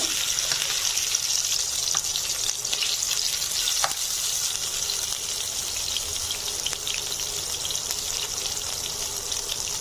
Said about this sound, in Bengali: এখন আমি বিটরুটগুলো ভেজে নিচ্ছি